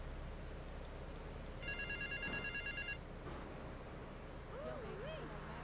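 A telephone rings in GTA 3, its bursts of rapid electronic trills lasting just over a second and standing clearly above steady game ambience of wind and water, with a brief warbling sound near the end.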